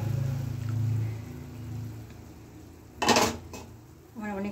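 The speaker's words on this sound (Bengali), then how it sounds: "আমি ঢাকাটা খুলছি" A metal lid comes off a pot of momos that has been steaming about ten minutes, giving a brief bright clatter and a hiss of escaping steam midway, with a low kitchen hum and faint handling noises before and after.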